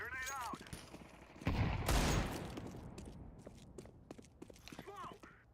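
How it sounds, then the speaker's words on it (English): Grenade thrown and exploding in a Counter-Strike 2 match: one loud broadband burst lasting about half a second near the two-second mark, followed by scattered clicks and footsteps, with voices speaking before and after. "Grenade out."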